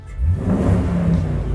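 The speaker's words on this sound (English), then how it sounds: "you can give it some throttle and it will sound like a hot rod" A 1949 Chevrolet 3600 pickup truck engine revs up under throttle, a loud, close, low rumbling surge that holds steady for a brief moment with no talking.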